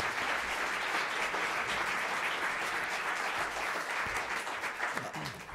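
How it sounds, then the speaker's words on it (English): Sustained applause from a forum audience greeting the panelists at a political discussion evening, dense and steady clapping throughout with little talk. "Let's give a round of applause to the panelists."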